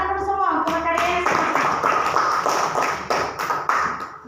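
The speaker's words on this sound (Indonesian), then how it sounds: "Tepuk tangan dulu semua untuk karyanya." A classroom of students claps for a group's decorative craft work. Many hands beat in quick, slightly uneven bursts that start after a brief voice and carry on, close and fairly loud.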